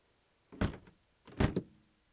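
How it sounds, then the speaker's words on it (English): Cabin doors of a Tomahawk PA38 light aircraft in Microsoft Flight Simulator 2020 being shut, two close, solid thunks with a short rattle after each, spaced under a second apart in a quiet setting. "So we'll close up the doors here."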